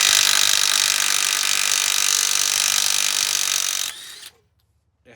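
A Dewalt DCF911 half-inch drive impact wrench runs loud and close as a steady, continuous whir with a dense hammering rattle for about four seconds, then cuts off abruptly into near silence.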